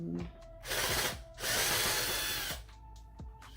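A power screwdriver backs Phillips screws out of the AC unit panel on a Dodge Ram dash, with two loud whirring bursts of driving, a gap between them and quieter clicks and handling noises around them.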